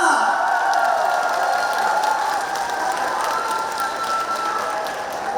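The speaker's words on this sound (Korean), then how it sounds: "박수 소리와 함성이 왜 이렇게 작아요" A concert crowd at an outdoor show in Hadong gives sustained applause mixed with cheering and shouts, loud and steady throughout.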